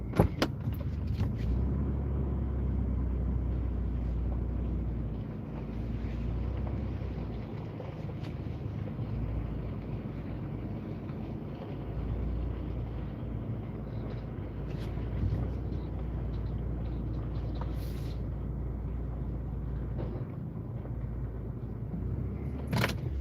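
A car reverses slowly in a yard, its steady engine drone and low rumble running throughout with wind buffeting the microphone and occasional faint knocks, with no speech.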